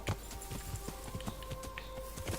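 A horse's hooves beat out a regular clip-clop rhythm in the video game Kingdom Come: Deliverance, moderately close and steady over a soft game ambience, with no voices.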